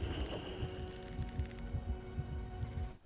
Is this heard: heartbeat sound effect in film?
yes